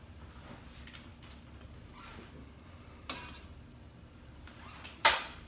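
A spoon stirs farro risotto with butter, Parmesan and chives in a pot on the stove, giving soft scraping under a quiet kitchen background and two sharper clinks against the pot's side.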